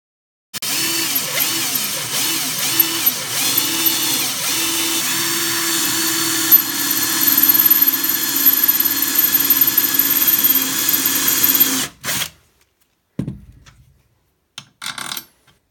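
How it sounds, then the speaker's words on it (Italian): A drill turns a Lidl Parkside step drill bit at low speed, with cutting oil, to countersink a hole in a bracket, a steady loud grinding whir for about eleven seconds, then cutting off with a few short bursts. "dopodiché a bassa velocità potrei praticare la svasatura"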